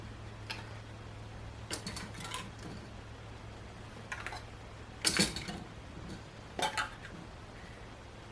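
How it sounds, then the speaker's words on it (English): Light metallic clinks and taps as used lids go onto glass canning jars of cherry preserves for water bath canning, a few scattered small clicks over a steady low kitchen hum. "Now we put our lids on."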